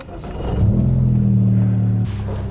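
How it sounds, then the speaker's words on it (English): A 2015 Ford Mustang EcoBoost with a 2.3-liter twin-scroll turbo engine starts up close by: a brief crank catches into a loud steady idle that settles slightly before cutting quieter near the end. "So let's go ahead and get it started here."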